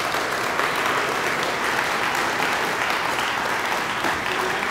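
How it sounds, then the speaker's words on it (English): Steady, full applause from a seated audience at a beer-industry panel on hazy beers, dense clapping sustained evenly throughout at close range. "A big round of applause for our panelists."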